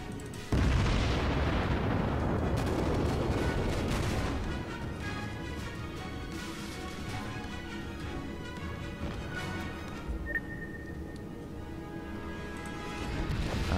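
A warship's main guns fire a heavy salvo in World of Warships, a loud booming blast followed by a long rumbling decay and lingering low roar of battle noise.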